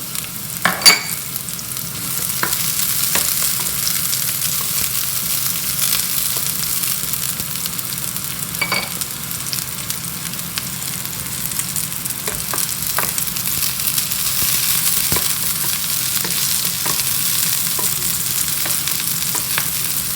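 Onion sautés in a pan, giving a continuous bright hiss of sizzling with occasional light clicks and scrapes of a stirring utensil, close and steady throughout.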